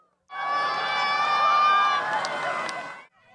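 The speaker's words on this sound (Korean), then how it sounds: "마침내 15km 떨어진 발사대에서 연기가 피어오르고 섬광이 비치자 환호성이 터져나옵니다." Spectators watching the Nuri rocket launch from about 15 km away burst into cheering, a loud sustained crowd roar of shouts and whoops lasting almost three seconds before cutting off.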